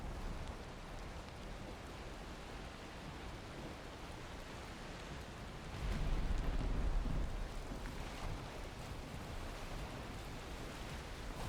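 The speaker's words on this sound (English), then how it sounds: "there seems to be a storm on the ocean too" Continuous rain hiss of a storm at sea in a sailing video game, with one deeper rumbling surge partway through, otherwise an even wash of noise without speech.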